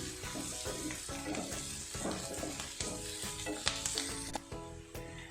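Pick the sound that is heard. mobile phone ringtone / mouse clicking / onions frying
onions frying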